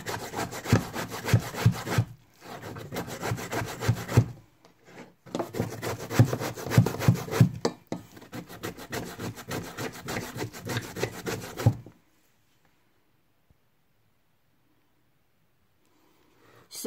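A wooden piece is scraped by hand in long, steady rasping passes, loud and close. Two strokes run about two seconds apart, then a longer stretch of scraping ends abruptly, leaving near silence.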